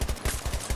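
ACW rifle fire in the shooter game Battlefield 2042: a quick run of rapid, evenly spaced gunshots crackles in a short burst, fairly faint.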